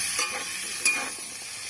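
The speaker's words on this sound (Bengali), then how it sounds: "এখন আলু আর কাঁচকলা একসাথে ভেজে নেব।" Potato and green banana pieces sizzle together in hot oil, with a bright steady frying hiss, a few soft stirring scrapes and one sharp clink from a utensil.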